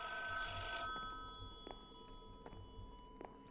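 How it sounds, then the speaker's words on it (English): A phone rings in a Minecraft horror mod game, its bell sounding in a few brief repeated bursts over a low ambient hum with no talking. "And the phone is ringing."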